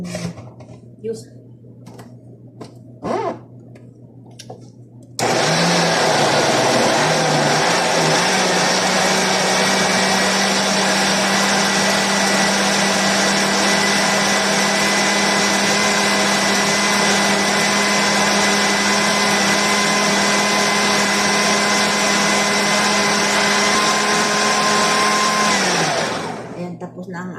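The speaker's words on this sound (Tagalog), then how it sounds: "tapos na ang ating blender na roman" A blender blending fruit and water into juice whirs loudly and steadily for about twenty seconds, starting abruptly after a few seconds of quieter background and cutting off near the end.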